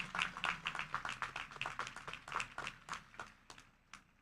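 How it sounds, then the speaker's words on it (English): An audience at a college commencement claps for the graduates, a faint, steady patter of many hands from a distance. "Yes, let's clap,"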